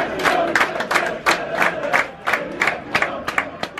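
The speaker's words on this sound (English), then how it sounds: "Crowd are warming up, just." A football crowd at a Woking FC match, chanting and clapping in a rhythmic pattern of sharp claps and bursts of voices, loud and close.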